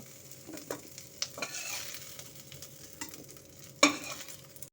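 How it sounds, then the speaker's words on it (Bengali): Capsicum shallow-frying in oil in a wok, a quiet steady sizzle with scattered stirring clinks and one sharper scrape of the utensil near the end, no talking. "ক্যাপসিকামটাকে আমি একটু শ্যালো ফ্রাই করে নিয়েছি"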